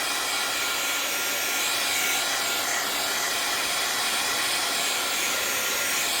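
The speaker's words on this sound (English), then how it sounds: "it does take a few minutes to dry if you don't heat set it with your heat tool" A heat tool blowing hot air to dry stamped ink on a card, a loud continuous hiss and whoosh close to the microphone, steady throughout.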